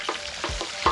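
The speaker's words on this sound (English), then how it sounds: "Add a little oil like, you know? Yeah. Add in the octopus." Octopus frying in oil at an outdoor riverside cooking party, giving a steady low sizzle broken by a few short stirring scrapes and clatters, close and moderately loud with no talking.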